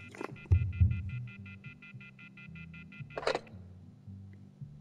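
Rapid electronic beeping tones from a phone in the video game The Wolf Among Us, a steady train of short bleeps over low game ambience and a couple of thumps.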